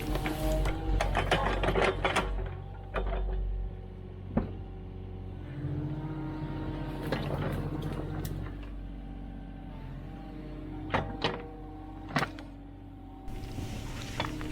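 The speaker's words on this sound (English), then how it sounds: "I gotta do something about the clanking" A worn mini hoe engine cylinder clanks steadily through a 14-second stretch, a continuous mechanical chatter with rhythmic knocks and sharp metallic ticks rising over a low engine drone, close and fairly loud with no voices.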